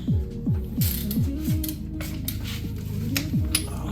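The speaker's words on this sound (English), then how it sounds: "Now we're going to torque them." A torque wrench ratchets truck lug nuts down to 140 foot-pounds, a quick series of close metallic clicks with descending tones, then steadier clatter against a background hum.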